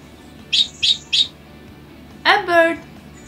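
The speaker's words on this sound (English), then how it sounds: "A bird." Cartoon bird call in a children's alphabet game: three short, bright chirps in quick succession, then a longer two-part warbling call, loud and clear over a quiet background with no talking.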